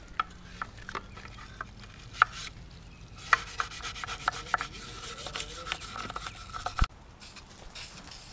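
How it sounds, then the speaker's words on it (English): A Honda Civic part being hand-sanded with household sandpaper, irregular close rubbing and scratching strokes with a few sharp knocks, no speech. "I got some sandpaper right here I just found around the house, so we're gonna sand the other side of it"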